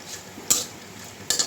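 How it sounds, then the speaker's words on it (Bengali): Dried chillies and bay leaves frying in oil in a pan over a low gas flame, with two short bursts of sizzle and stirring scrapes over a faint steady hiss. "একটু ভেজে নেব।"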